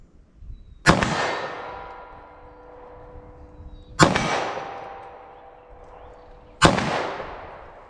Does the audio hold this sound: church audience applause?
no